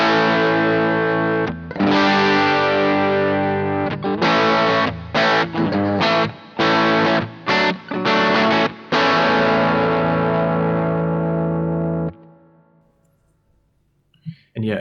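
Distorted electric guitar strums chords through a Boss GT-1000CORE 1x10 speaker cabinet model, with a boxy, compact tone and choppy stops between hits, then a ringing chord fades out.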